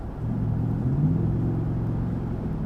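Steady low exhaust rumble from a 2017 Ford F-150 with the 5.0 V8 and a Magnaflow exhaust, idling with a smooth, even drone and one brief slight rise in pitch near the start, close and continuous with no talk.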